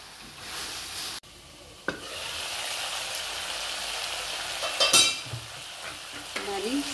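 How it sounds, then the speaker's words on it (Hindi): Potato and cauliflower for aloo gobi cook on a low flame in a pan, giving a steady soft sizzle with a few brief stirring scrapes and clatters, heard close up with no talking. "इसको हम स्लो फ्लेम पे अभी मज़ीद कुक होने देंगे।"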